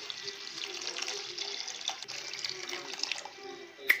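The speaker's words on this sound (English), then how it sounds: "Yes, so I'll just go ahead and pour the hot water." Hot boiled water is poured onto tamarind in a bowl, a quiet, steady trickling splash lasting a few seconds, close up and soft.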